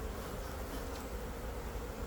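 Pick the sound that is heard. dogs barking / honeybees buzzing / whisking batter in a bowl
honeybees buzzing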